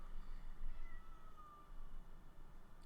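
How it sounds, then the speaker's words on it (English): A cat meows in a living room, a drawn-out, fairly faint call over a steady low background hum, with no talking. "Did you hear a cat?"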